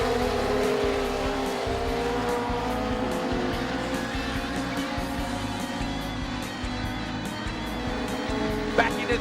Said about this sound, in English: Legend cars getting after it.